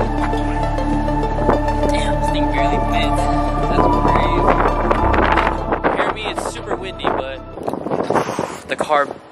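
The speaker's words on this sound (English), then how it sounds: "it's so windy" Strong outdoor wind buffets the microphone with a heavy, continuous low roar for several seconds, then eases into gusty bursts while people talk nearby.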